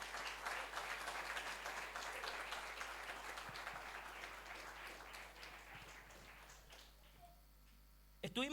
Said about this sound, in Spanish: Si todavía puede dar un aplauso al Señor.